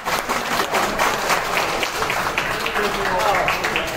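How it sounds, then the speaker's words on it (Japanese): Applause from the audience at a mini 4WD award ceremony, dense and fairly loud, with voices talking over the clapping. "皆さん、改めて、大きな拍手をね、お願いいたします。"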